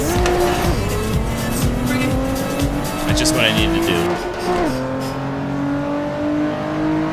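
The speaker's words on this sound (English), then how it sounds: "Car literally slid." A race car in the PC racing game Assetto Corsa slides and squeals its tires loudly over a steady engine drone, with revs shifting up and down through the slide; someone talks over the game sound.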